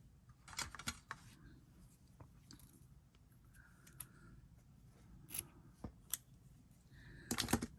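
Scissors snipping SoftFlex beading wire for a necklace, a few quiet crisp snips spread across the stretch with small handling rustles between them, close and soft.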